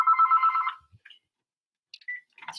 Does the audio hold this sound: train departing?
no